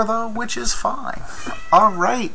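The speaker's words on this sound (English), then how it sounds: "You can probably hear my cat screaming in the background." A cat in the background lets out drawn-out, rising meows and yowls, loud and close, alternating with a person's talking.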